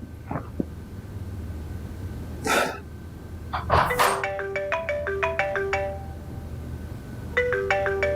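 A mobile phone rings with an incoming call, its electronic ringtone playing a repeating melodic pattern of clear beeping tones, loud and close, after a few brief knocks and rustles at the start.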